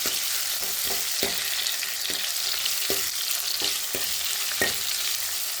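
Masala ingredients sauté in a hot pan for a tamarind kuzhambu, giving a steady loud sizzle broken by repeated sharp scraping stirs of a spoon against the pan.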